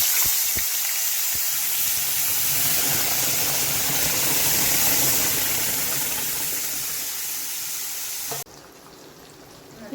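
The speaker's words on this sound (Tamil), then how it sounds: "இப்போது கடுகு நல்லா பொரிஞ்சிருச்சு" Mustard seeds splutter in hot oil while mango thokku pickle is cooked, giving a dense, steady hiss and crackle that fills the room. It cuts off abruptly near the end.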